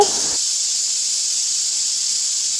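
Steam hisses loudly and steadily from a pressure cooker while squid biryani cooks, a constant close-up rush that runs the whole time after a short low thump at the start.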